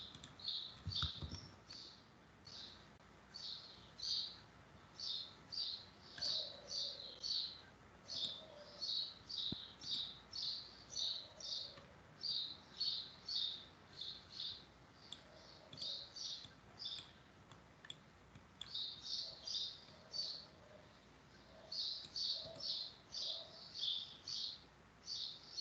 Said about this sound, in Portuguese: os passarinhos estão me incomodando aqui no áudio